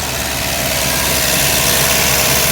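An MG TD car engine runs with the choke pulled fully out, bogging near operating temperature: a loud, close, continuous rumbling idle with no talk.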